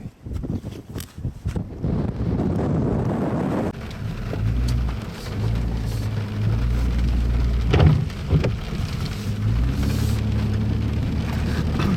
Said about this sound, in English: This heavy rain is really going to mess us up